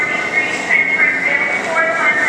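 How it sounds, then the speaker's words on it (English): A New York City subway train on the 1 line rumbles through the underground system, with a steady metallic whine and rolling noise continuing throughout, close and fairly loud, while people talk over it. "We're waiting for the 1 train, and 2, 3."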